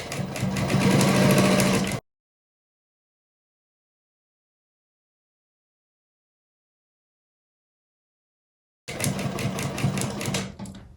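A sewing machine stitching a beret, running in two short rapid-stitch bursts of about two seconds each, separated by a long silence, close and clear.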